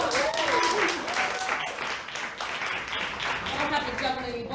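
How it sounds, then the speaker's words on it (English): Audience applause as a volunteer comes up on stage at a women's leadership event, a crowd clapping steadily with some voices and cheers mixed in. "Let's give her a nice round of applause."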